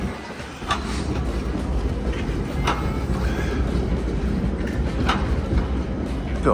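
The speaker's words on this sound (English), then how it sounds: "Gotta love these old trams." An old tram rolls past on a street in Riga, Latvia: a steady, loud rumble of wheels on rail with brief metallic squeals and clicks recurring through the passage, and no talking.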